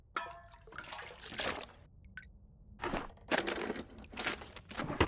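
Drinking toilet water in the survival game The Long Dark, with a few soft splashy, liquid gulping bursts separated by short pauses, fairly quiet and close, with no talk.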